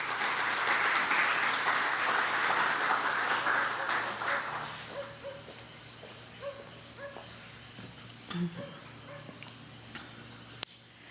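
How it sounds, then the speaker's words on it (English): Audience applause welcoming a speaker to the podium at an International Education Day event, a dense, even clatter of clapping for the first few seconds that thins and fades away, leaving a quieter room with a few scattered sounds. "a hearty round of applause"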